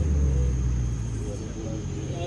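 A loud car engine rumbles deep and steady at close range, a heavy low drone that carries throughout with little change in pitch.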